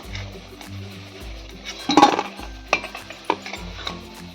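Freshly fried bread-slice pakoras being lifted from the pan onto a plate, with soft clinks of a utensil against dishware and a few sharp taps near the middle, close and moderate in volume.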